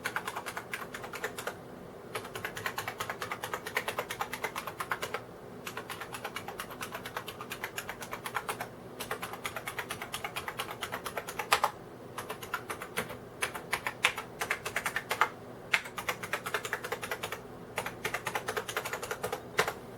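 Rapid, clicky typing on a Unicomp Model M buckling-spring keyboard, with crisp, springy key strokes in bursts and short pauses, close up and steady.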